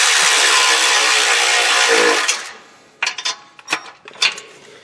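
A powered ratchet runs steadily and loudly for about two seconds while tightening Y-pipe nuts on a 2011 Ford Edge, then stops, followed by a few short metallic clicks and clanks of tools close by.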